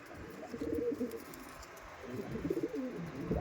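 Andhra Madrasi pigeons in a loft coo in low, throaty rolling phrases, two clear bursts near and moderately loud, with no voices.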